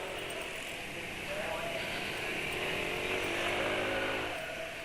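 A Honda scooter at full throttle, its engine holding a steady, loud drone that climbs gradually in pitch as it accelerates, with wind noise throughout.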